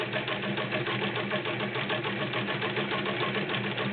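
A vintage Singer 306K sewing machine running steadily at constant speed, a close, even whirring hum with a fast rhythmic needle patter and no pauses.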